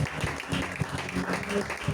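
A church congregation applauds, a dense patter of many hands clapping at once that stays fairly even across two seconds and sounds mid-distance in a reverberant hall.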